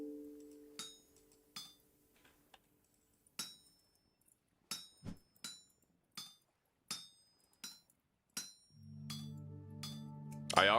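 Metal hammered on an anvil in the video game Vintage Story while smithing a falx blade and shovel head: a dozen sharp ringing clinks at uneven intervals, each with a short metallic decay, followed by a rising tonal chime at the end.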